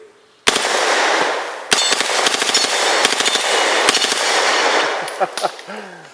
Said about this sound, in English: And let's just go select fire right away. Put a few holes in the watermelon.